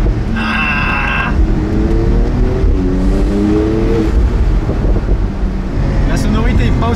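A Porsche 992 Turbo S accelerating hard, its engine a loud continuous roar rising through the gears with wind rush inside the cabin, and a voice speaking over it.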